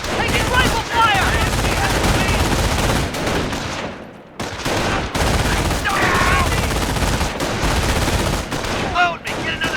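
Rifle and machine gun fire from a Company of Heroes battle, loud and nearly continuous bursts and rattles for about ten seconds, with a brief lull midway and game voices mixed in.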